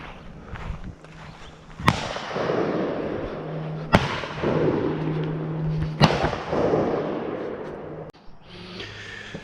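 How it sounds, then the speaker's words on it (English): A LeMat's .62 caliber shotgun barrel fires round balls outdoors from a rest, giving four sharp, loud reports about two seconds apart, each followed by a rolling echo over low background hum. "So I'm taking 4th shot off the rest. 62 caliber barrel, aiming dead center."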